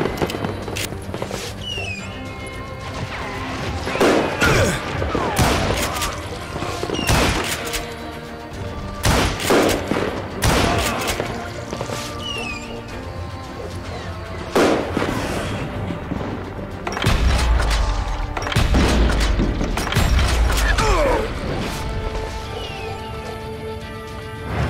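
Gunshots from the Western video game Call of Juarez: Gunslinger ring out as repeated sharp, loud reports spread across the stretch, with booming blasts and background game sounds between them.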